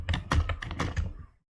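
Rapid typing on a computer keyboard, a close, busy clatter of keystrokes with a few heavier presses, stopping abruptly near the end.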